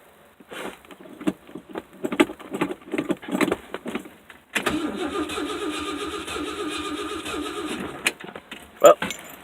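Keys jangle close by, then a 1967 Ford Thunderbird project car cranks and fires into a rough, uneven running engine that settles into an idle, with a brief sharp clank near the end.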